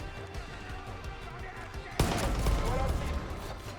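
Gunfire in the video game Far Cry 5: a sudden loud burst of shots about halfway through, followed by a dense sustained rattle of firing over a busy background of in-game noise.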